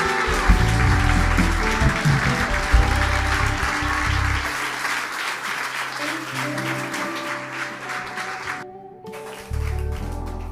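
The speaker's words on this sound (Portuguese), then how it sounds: "Se você crê, então aplaude ao Senhor." Congregation applauding in a Portuguese-language church service, broad clapping over sustained low music or organ tones, thinning toward the end with a brief dropout.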